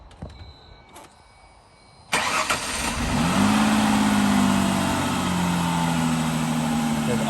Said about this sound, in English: We're going to start the engine now.